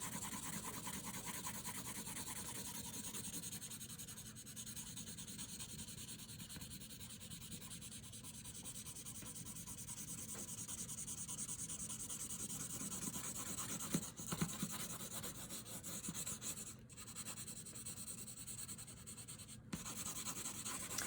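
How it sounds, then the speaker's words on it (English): Pencil graphite rubbed steadily across paper, a continuous close, soft scratchy shading sound alone for about twenty seconds, with a few brief louder strokes. "just hard enough to get the graphite onto your paper"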